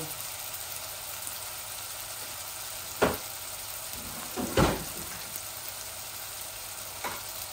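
Fresh ginger and garlic hit a sizzling pan, a low steady fry with a few sharp clatters and bursts of hiss as they drop in and are stirred, close and quiet.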